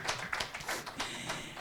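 A studio audience at a Semarang talk show on stunting claps, a dense patter of close hand claps that holds steady for under two seconds with no talk.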